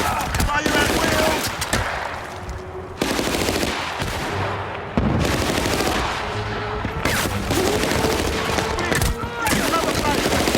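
Suppressive gunfire in the Battlefield Bad Company video game, loud repeated machine-gun bursts in several long volleys with brief gaps and faint shouting in between.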